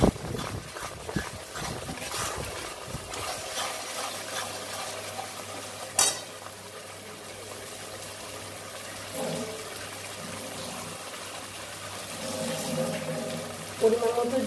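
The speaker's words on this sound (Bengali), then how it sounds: "পরিমাণ মতো জল দিয়ে দেবো" Water added to a cooking pan while making butter paneer, a soft, steady pour and sizzle that hisses faintly under the cooking, with a few small clinks.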